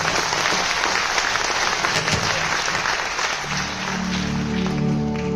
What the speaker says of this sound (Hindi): आप थोड़ा सा जोश के साथ तालियां बजाइए